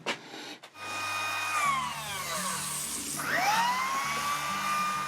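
Freshly dyed wood being dried with a dryer: a steady whirring blower with tonal whine that sweeps down and back up as it is moved, following a brief knock at the start.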